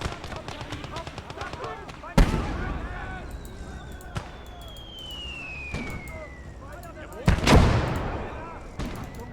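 Enemy artillery fire in a World War II style strategy video game, with sharp blasts and booming impacts going off among smaller shots and a descending whistle, the biggest explosion hitting near the end, while a voice talks over the noise.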